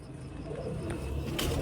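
Pigeons at a pigeon club loft coo steadily, a low murmuring burble that continues throughout with no talking.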